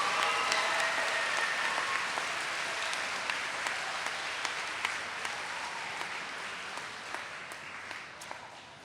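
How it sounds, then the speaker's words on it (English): A crowd at a 2018 IMSA convocation claps steadily in sustained applause, a dense, even patter of many hands that slowly fades toward the end. "one more nice round of applause"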